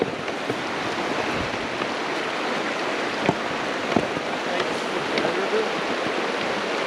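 Steady broadband rush of the Bear River flowing in a snowy backcountry setting, a continuous watery wash with no talk over it.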